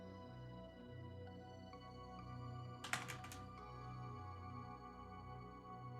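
Typing on a computer keyboard while a topic box is edited: a short, clustered burst of several clicky keystrokes near the middle of the clip, set against a steady low electrical hum, with no talking.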